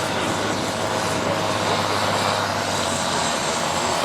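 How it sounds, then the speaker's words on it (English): A 414 cubic inch tractor engine built in Waterloo, Iowa, rated 140 PTO horsepower, roars at a 22,000 lb tractor pull as a loud, steady, continuous drone from nearby. "A 414 cubic inch engine putting out about 2100 RPM."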